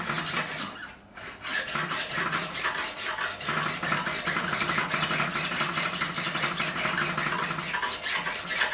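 A metal file rasps back and forth over a guitar fret in steady, rhythmic strokes, close and fairly loud, with brief pauses between passes.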